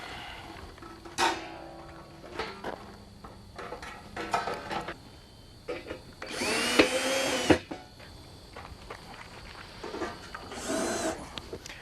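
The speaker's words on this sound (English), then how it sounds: "fasten the top plate to the vertical with 3 self-tapping screws" A power drill drives self-tapping screws into the top plate of an above ground pool during installation, heard as several short whirring bursts of varying loudness with pauses between, the strongest and longest burst near the middle.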